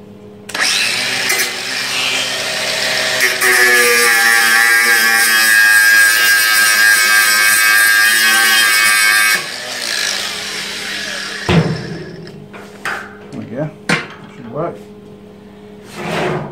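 A power tool cleaning paint off a Honda ATC fuel tank before welding, whirring loudly and steadily for about nine seconds, then stopping, followed by scattered clanks and handling noises nearby.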